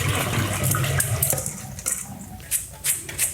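Water runs and splashes as rinsed basmati rice is drained in a kitchen sink, a steady pouring wash with a few sharper splashes toward the end, close and fairly loud with no talk.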